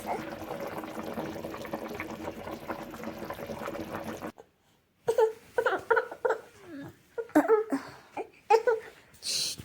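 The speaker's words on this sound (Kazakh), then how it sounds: "су қайнап жатыр" Water with potatoes bubbles steadily in a pot over low heat for several seconds, then a pause followed by intermittent clinks and clatter nearby.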